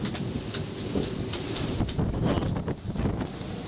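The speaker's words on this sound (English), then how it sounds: "What's the wind gusting, Riley?" Strong wind gusts buffet a sailboat during a squall, a loud steady roar of wind noise with rushing water and occasional thumps, no talking.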